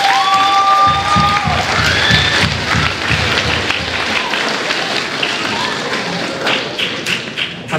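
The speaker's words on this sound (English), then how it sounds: "Clap for all of them, please," Loud audience clapping at a middle school awards ceremony in a gym, dense steady claps with some thumps and whoops, fading slightly toward the end.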